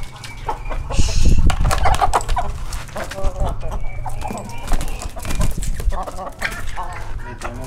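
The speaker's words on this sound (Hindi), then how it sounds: "ये दोनों मुर्गियाँ लड़ पड़ी हैं, ये नई वाली मुर्गी ऊपर आने वाली, दोनों लड़ पड़े हैं।" Two Aseel hens scuffle, squawking and clucking in brief agitated bursts with wing flapping and scratching, close by, while someone talks over the commotion.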